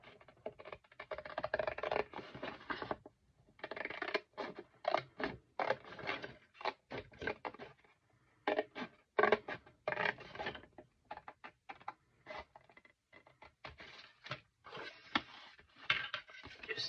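Scissors or a craft blade cut card along a score line for a paper flower box, making quiet, close, irregular snips and rustles with brief pauses between cuts.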